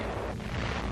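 An aerial bomb with loose fins goes off early, giving a dull, rumbling boom that rolls on through a steady windy roar for about a second, heard alone without voices.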